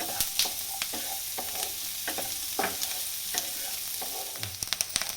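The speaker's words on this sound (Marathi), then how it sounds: "चांगला कांदा जर भाजायचा." Onion fries on a tawa for egg masala, a constant crackling sizzle broken by frequent spatula scrapes and taps against the pan, close-up and with no talking.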